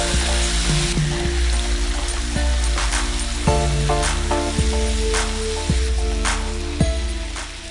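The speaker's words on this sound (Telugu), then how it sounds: "ఈ ఆనియన్స్లో చికెన్ వేయాలి." Chicken dropped into hot onions for a restaurant-style chicken biryani hisses in a strong, steady sizzle that stays loud and close throughout, with a rhythmic thumping beat running underneath.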